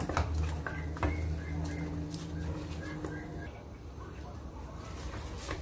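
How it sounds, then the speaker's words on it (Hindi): Curd being stirred continuously in a pan over a low flame while making paneer: soft scraping and light clinks under someone talking. "तो इसको हमें लगातार चलाते रहना है"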